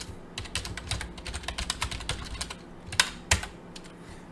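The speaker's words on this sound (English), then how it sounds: "We're gonna type git init." Rapid typing on a computer keyboard as commands are entered into a terminal, with irregular close clicks and a couple of sharper keystrokes near the end, no talking.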